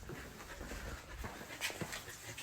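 Large English cream golden retriever panting while wedged in a doggy door, a steady close breathy huffing with a few louder bursts near the end.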